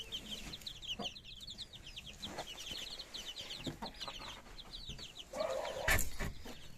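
Hens cluck at close range while chicks peep in quick high runs, with a louder squawk near the end.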